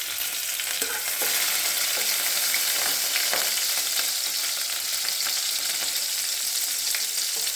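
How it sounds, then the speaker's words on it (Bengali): Chopped garlic and green chili sizzle steadily in hot oil in a kadai, a dense crackling fry with faint stirring scrapes, close and constant throughout with no talking. "তেলটা গরম হয়ে গেছে। তো এখানে অল্প 4-5টা রসুন কুচি আর একটু লঙ্কা কুচি দিয়ে দিচ্ছি।"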